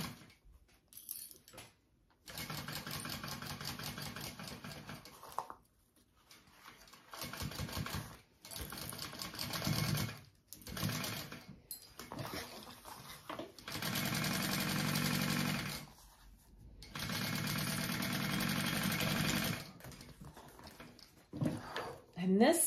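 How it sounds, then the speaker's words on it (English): A home sewing machine bastes down the pocket of a Fold N Zip Petite backpack, running in several close, steady stitching bursts separated by short pauses. "Now I'm just basting this all down."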